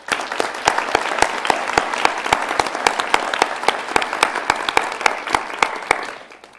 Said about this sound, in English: I'm going to allow people to clap if they would like to.